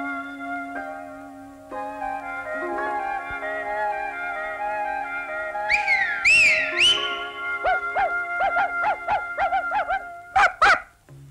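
A person whistles to call sheep down from a hillside pasture: sustained tonal notes, then rising and falling swoops and a run of short, rapid chirping whistles that grow louder toward the end, with no voices.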